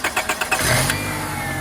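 A car engine cranks with several rapid starter pulses, then catches and settles into a steady idle, loud and close with no voices.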